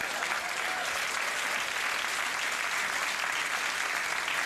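Dense, steady audience applause fills the whole stretch, a loud continuous wash of clapping hands with no talk over it.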